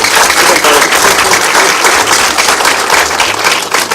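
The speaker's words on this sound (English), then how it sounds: "You haven't taken a round of applause for a while" A studio audience on a Nigerian TV quiz show breaks into loud, sustained applause, with dense clapping from a close crowd filling the whole moment.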